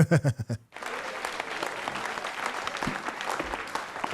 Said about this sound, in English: That little half-ass golf clap.